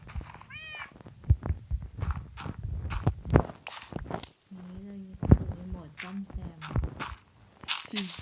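A pet cat gives a few short, high meows near the start amid footsteps and shuffling, while people talk over most of the scene and a voice later hums along in a drawn-out tone.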